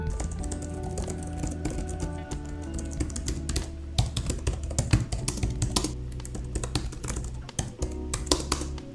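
Steady fast typing on a portable tablet keyboard with tactile keys, a dense run of close clicking keystrokes throughout, with no voices.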